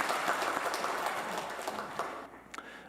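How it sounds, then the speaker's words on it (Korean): A church congregation claps together during a Sunday worship service, a dense, steady wash of applause that thins and fades toward the end, with a few last scattered claps. "우리 박수로 하나님 앞에 영광 돌려드리겠습니다."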